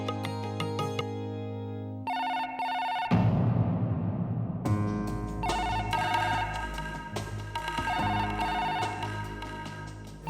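A telephone rings with a melodic electronic ringtone, repeating its tonal pattern steadily and fairly loudly for about ten seconds without pause.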